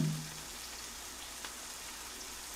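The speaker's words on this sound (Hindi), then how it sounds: "इतनी तेज बारिश आ गई" Heavy rain falls in a Hindi cartoon about a sparrow, a dense, steady hiss of drops that runs throughout, with a short low tone at the start.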